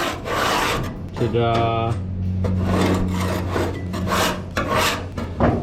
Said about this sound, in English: All this dirt getting kind of scraped off and removed.